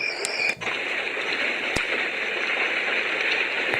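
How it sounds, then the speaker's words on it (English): Steady, dense patter of rain from a sleep sound machine, continuous and even throughout, with a couple of faint clicks early on. "Everybody loves the sound of rain."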